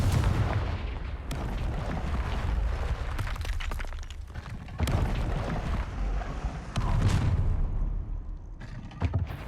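Confringo blasting-spell explosions in the Hogwarts Legacy video game: several heavy booming blasts with crackling debris and rumbling tails, loud and close, separated by short lulls.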